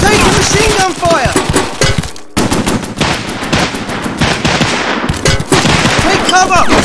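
Rapid machine gun fire from a stop-motion plastic army men battle scene, dense bursts of gunfire crackling almost continuously, loud and close, with a brief gap partway through and shouted voices mixed in.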